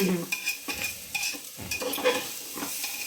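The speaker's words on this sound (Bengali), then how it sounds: "একটু নাড়াচাড়া করে মিক্স করে তারপরে জল দিই" Basanti pulao rice is stirred in a pot with a spoon, making a series of close scraping and shuffling strokes over a light sizzle and a few clinks of metal.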